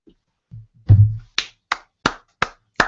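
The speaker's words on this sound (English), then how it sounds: "round of applause to Doctor Who fans around the world" A handful of slow, evenly spaced hand claps ring out close by and alone, about five sharp smacks, given as applause for Doctor Who fans.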